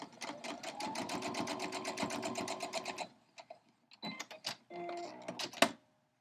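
A sewing machine runs in a steady rapid burst stitching a small 6.5 inch crumb quilt block, then stops and restarts in shorter spurts with clicks between, close and fairly quiet.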